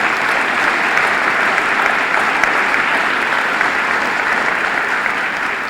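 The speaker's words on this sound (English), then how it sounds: "Can we give them a round of applause for doing that?" Audience applause for middle school kids at a county address, a dense, loud, steady roar of clapping from a full room lasting the whole stretch without pause.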